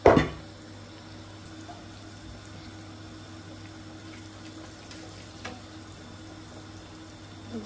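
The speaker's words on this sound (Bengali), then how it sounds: "টমেটো সুপটা একটু অ্যাড করব।" Tomato soup is poured into pasta, making a soft, steady liquid stream. It begins with a brief splash and carries on as a low, continuous pour.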